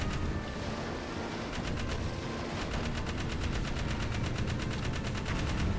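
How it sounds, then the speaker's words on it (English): Rapid bursts of automatic cannon fire from a vehicle in the video game Jak 3 rattle in quick rhythmic volleys, fairly quiet, over a dense background rumble. "it has an auto cannon"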